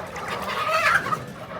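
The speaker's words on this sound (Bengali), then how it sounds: "এগুলা কিন্তু সেই আমার ইনকিউবেটরে ফোটানো সেই বাচ্চাগুলা" Incubator-hatched chicks kept with chickens give a short burst of clucking and chirping, close and fairly clear over a quiet background.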